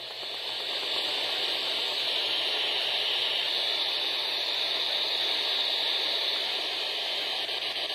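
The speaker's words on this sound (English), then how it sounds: "as you can hear, it is just static" Steady, loud hissing static from an FM radio tuned between stations fills the whole stretch, a constant broadband wash without voices.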